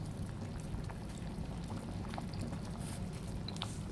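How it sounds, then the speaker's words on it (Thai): Fish sauce is poured into a simmering Thai jungle curry with tilapia, and a steady, close trickle runs over a bubbling, hissing pot, continuous and fairly even throughout with no talk. "เติมน้ำปลาลงไปอีกนิดนึง"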